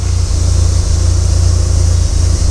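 A 2003 Mitsubishi Lancer Evolution 7 engine with HKS intake and HKS exhaust idles steadily with a deep low rumble, its rhythm stumbling briefly a couple of times, close and alone.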